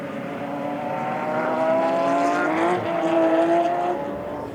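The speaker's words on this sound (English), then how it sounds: "But the Porsche of Nick Tandy still leads the 2 Ferraris" Porsche and Ferrari race cars pass at speed, giving a loud, sustained engine whine that rises in pitch and then drops, heard close with no talk over it.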